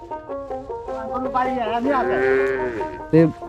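Cattle low at a large cattle pasture on a remote char riverbank area of Munshiganj in rural Bangladesh, a drawn-out, wavering call close by, with a louder, shorter call near the end.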